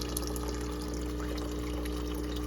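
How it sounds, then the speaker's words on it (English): Aquaponics water pump pushing water through teed-off lines to three grow beds, a steady continuous wash of flowing water with a low constant hum, even and unbroken throughout. "what this pump does, it pumps that water through here"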